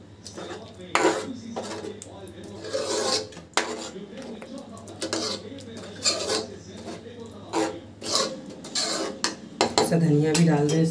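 A ladle scrapes and clanks repeatedly against a metal pan as street-style pav bhaji with lemon juice is mixed, with rhythmic rasping strokes and some voices in the background.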